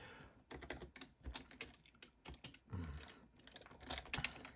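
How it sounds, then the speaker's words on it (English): Rapid, irregular keystrokes on a computer keyboard clatter up close for several seconds, a few heavier thumps mixed in, with no voices. "Excuse my typing."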